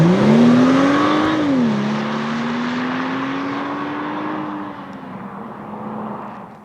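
A 2013 BMW X1 xDrive 35i accelerates hard, its engine note rising loud and close, dropping briefly at a gear change, then climbing steadily again before easing off.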